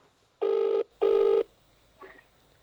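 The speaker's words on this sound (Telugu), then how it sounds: "ఒకసారి ఫోన్ చేయండి చేస్తాను." Two loud, even telephone ring tones, each about half a second, sound close and alone before a brief fainter blip follows.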